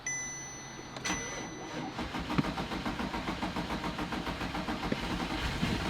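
An abandoned Audi R8 cranks with a rapid, rhythmic churning from the starter as the engine briefly tries to catch, close and steady for several seconds after a few clicks.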